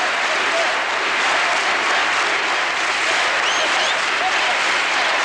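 A high school basketball crowd from Roosevelt applauds at the 1982 AAA Washington State championship, a dense, continuous wash of clapping from many hands, loud and sustained throughout.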